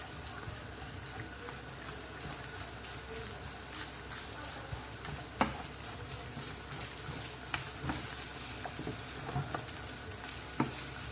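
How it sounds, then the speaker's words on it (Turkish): Steady sizzling of tomato paste frying in a pan, with occasional sharp clicks and scrapes of stirring against the metal. "Evet salçamız da kavruldu şimdi."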